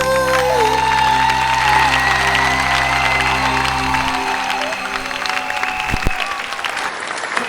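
An audience at a televised finale show claps loudly and continuously, with a few faint cheers in the crowd as the applause fills the hall.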